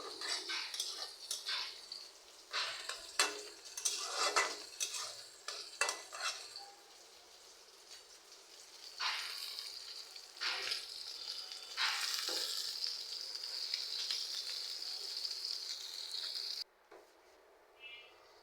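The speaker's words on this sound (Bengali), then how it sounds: "এরপরে মাছটা আমি উল্টে দিলাম অপর পিঠ ভাজার জন্য।" Tilapia fish fries in hot oil with a bright, crackling sizzle, as a spatula scrapes and clinks against the pan to flip it. Bursts of spitting rise and fall before the frying cuts off near the end.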